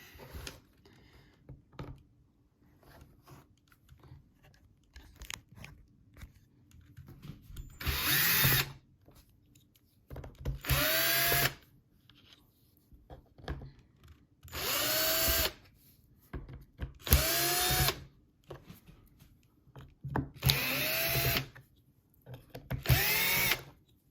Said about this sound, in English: we'll have to remove all the screws again.